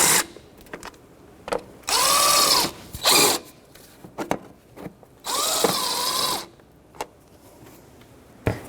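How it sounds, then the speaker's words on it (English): A hand ratchet with a 10mm socket snugging ignition coil nuts on a 2006-2012 Toyota RAV4, heard as two longer bursts of rapid clicking plus several short clicks, close and loud with no talk. "Start it by hand, put the nut on this side, 10mm socket, and just snug them up."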